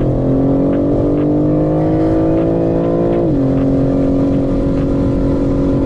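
A car on a track pulls away hard after braking, its engine a loud steady drone that climbs in pitch, drops briefly at a gear change near the middle, then climbs again, heard close and alone.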